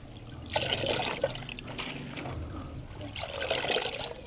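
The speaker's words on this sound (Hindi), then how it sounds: "तो अब हम साग को पानी में वॉश करते हैं" Mustard greens being washed by hand in water: two bursts of splashing and trickling, each lasting about a second, separated by quieter dribbling, heard close up with no talking.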